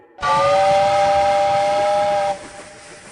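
A loud, steady steam whistle blows for about two seconds, then cuts off, leaving a soft hiss and rumble of a train.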